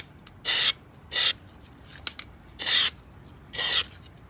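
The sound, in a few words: spraying Eastwood Rust Encapsulator inside headlight bowls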